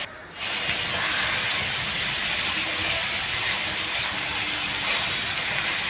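Potatoes frying in a wok, a steady loud hissing sizzle that holds evenly from start to finish with no talk, after a brief quieter moment at the very start.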